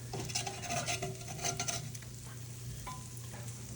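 Metal utensil scraping oven-baked buffalo wings loose from a metal pan, a close gritty scraping and clatter in quick strokes, busiest early, then quieter with a light clink.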